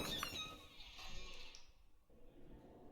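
A creepy, drawn-out creak in the ghost-hunting game Phasmophobia, a wavering bleat-like groan like an old door or floorboard straining, fading into a quiet low rumble.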